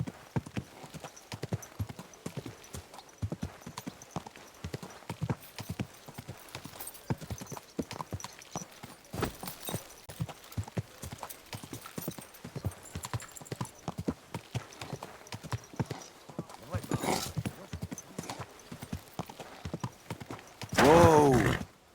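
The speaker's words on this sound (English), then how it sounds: "Easy, good horse." Horse hooves clip-clopping steadily over a long stretch in the Kingdom Come: Deliverance 2 video game, ending with a loud, close neigh.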